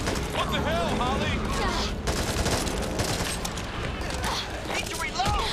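Heavy gunfire in the co-op zombie shooter Back 4 Blood, rapid overlapping shots and bursts filling the scene at close range amid chaotic game noise and voices.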